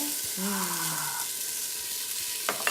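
Onion hits hot frying oil for a barbecue sauce, a soft continuous sizzle with stirring scrapes and a few clinks, heard close with no talk.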